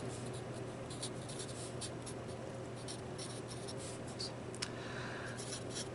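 A pen or pencil scratches out calculus notation on a writing surface, producing steady faint strokes with short pauses between them and a constant low room hum underneath.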